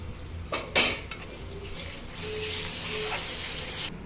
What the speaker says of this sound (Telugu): ఒక పెద్ద స్పూన్తో అల్లం వెల్లుల్లి పేస్ట్ వేస్తున్నాను